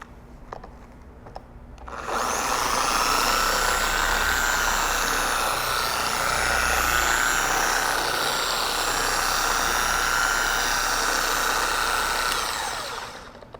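A TORQ 15mm long-throw dual-action polisher runs steadily and loudly for about eleven seconds, a dense whirring drone that starts abruptly after a quiet lead-in and holds without bogging down before winding off.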